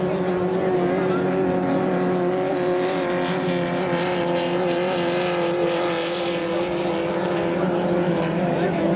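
Racing hydroplane boat number 79, a 2.5-litre class boat, accelerating hard during a heat at St-Félicien, a steady loud engine drone with a distant, continuous roar and no talk over it.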